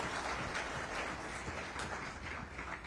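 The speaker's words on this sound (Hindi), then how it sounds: "कम से कम आपकी तालियों का समर्थन दे दीजिए उन्हें" An audience at the Bihar First Summit 2025 claps steadily in a large hall, a dense, even crackle of many hands, moderately loud, with no voices over it.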